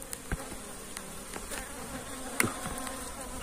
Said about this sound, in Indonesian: ini masih ada yang tertinggal segerombol lebah pekerja ya, di tempat saya kemarin